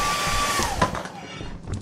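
A hair dryer-like whirring drone in the video game Lethal Company, a steady airy hum with a thin whine that fades out after about a second and a half.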